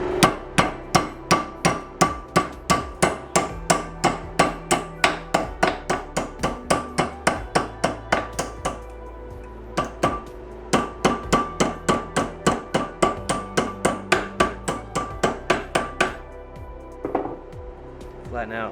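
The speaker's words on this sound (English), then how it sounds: "once you cut your piece of copper pipe, all you need is a flat face on your anvil." Repeated hammer blows flatten a piece of copper pipe on the flat face of an anvil, a steady run of sharp metallic strikes with a brief pause midway; a voice talks at points.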